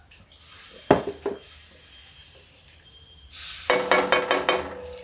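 Gravy poured into a pan of parwal (pointed gourd) sabzi, with a couple of sharp utensil clinks against the pan followed by a louder burst of sizzling and rattling as the liquid hits the hot pan, close and without talk.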